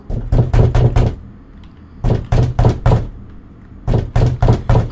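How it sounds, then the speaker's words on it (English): Knocking on a door in the video game Slender Mirror World: three loud, close bursts of rapid heavy knocks, each a run of four or five thuds, separated by short pauses. "Who's knocking on the door?"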